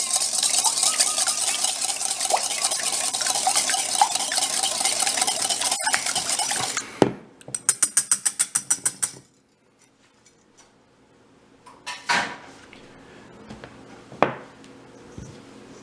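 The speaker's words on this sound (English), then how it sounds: "I'm just going to grab my whisk again and break up my eggs and just mix all of this together" Eggs being whisked into brownie batter in a bowl: a fast, steady rapid clatter of whisk against bowl for about seven seconds, then a few separate scraping strokes before quieter, sparse taps and knocks.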